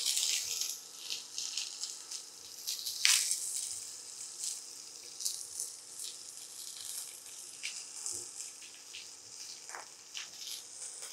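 Mustard seeds, cumin, onions and chilli sizzle steadily in a pan, a close, continuous crackle broken by occasional sharper pops and spatters.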